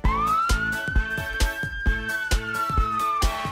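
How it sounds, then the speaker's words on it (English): A police car siren from a children's vehicle song, a long rising and falling electronic wail held over a bouncy musical beat with regular drum hits, loud and close. "That's a police car catching bad guys."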